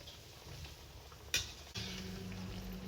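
Second batch of sweet shankarpali dough pieces frying in hot oil, a steady soft sizzle with a sharp clatter of the spoon turning them over midway, then a fuller, louder bubbling.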